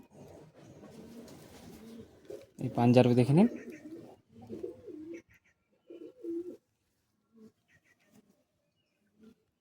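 Pigeons kept for sale in Kolkata, including a black female, give low cooing calls, one loud rolling coo followed by shorter scattered ones, while someone talks nearby.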